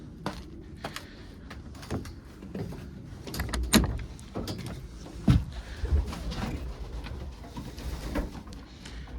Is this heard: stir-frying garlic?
no